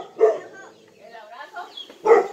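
A dog gives two short close barks about two seconds apart on a rural property, with a person talking quietly between them.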